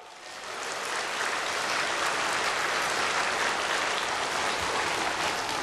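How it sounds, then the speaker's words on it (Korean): Dense, sustained applause from a church congregation during a sermon, rising quickly then holding steady and loud like heavy rain, with no talking over it. "박수!"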